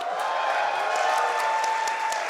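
A live crowd at a speedrunning charity marathon applauds and cheers in a steady, dense wash of clapping that holds evenly for a couple of seconds.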